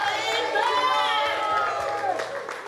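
A crowd claps and cheers loudly and continuously at a town's 27th anniversary celebration, with whoops and shouts rising over sustained applause.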